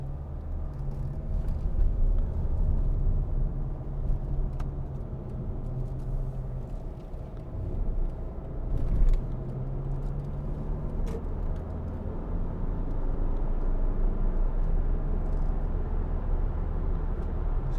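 A 2013 Hyundai ix35 2.0 CRDi 16v diesel SUV with four-wheel drive cruises along a road, giving a steady, low engine and tyre hum inside the cabin with a few brief bumps, heard alone without talk.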